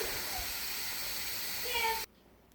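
Steam hisses steadily from the pressure release valve of an Instant Pot cooking spaghetti and meatballs, with a pot holder over the valve. The hiss is soft and continuous, then cuts off abruptly near the end.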